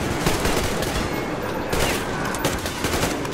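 Rapid automatic gunfire from a first-person shooter video game, Metro Exodus, rattling continuously and loudly for a few seconds with dense, overlapping bursts and no pauses.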